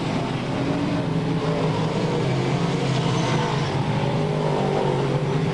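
Race cars roaring around the track at Albany Saratoga Speedway, a dense continuous engine drone that stays loud throughout, with no clear single pass standing out.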